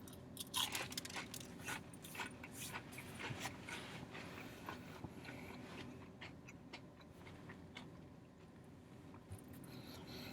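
Jack in the Box panko-breaded onion rings get bitten and chewed up close, a steady run of dry crunches and crackles over quiet room noise, loudest at the start and easing toward the end.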